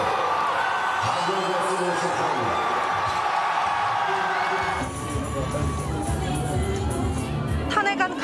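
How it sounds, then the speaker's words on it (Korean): A huge crowd of citizens outside the National Assembly erupts in cheers and shouts as the presidential impeachment motion passes, loud massed roaring, with a reporter talking over the noise. "탄핵안 가결이 선포되자 환호가 터져나옵니다"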